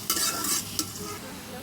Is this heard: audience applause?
no